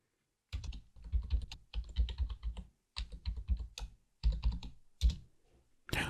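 Password being typed on a computer keyboard during Debian server setup, in several close bursts of rapid key clicks separated by brief pauses.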